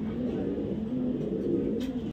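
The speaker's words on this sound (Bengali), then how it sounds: "এটা রেড চেকার পাইট রেসার কবুতর" A red checker racing pigeon, a young 2023 bird of Netherlands and Belgian bloodlines, coos in a low, continuous murmur close by, alone without talk.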